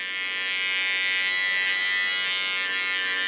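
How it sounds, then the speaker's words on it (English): A small electric hair clipper buzzes steadily and close while cleaning up the contour line of a haircut, a continuous high whirring drone with no talking. "Onto my small clipper, clean the contour line,"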